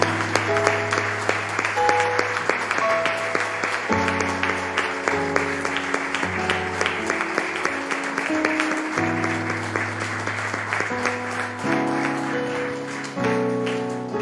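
A church congregation at a Spanish-language evangelical service claps together in sustained applause, steady and fairly loud, with sustained musical tones running underneath throughout.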